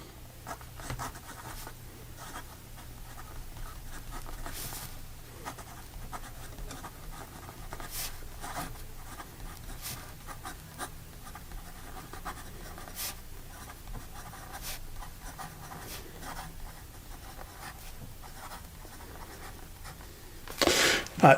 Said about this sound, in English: So here we go with the rest of the writing sample.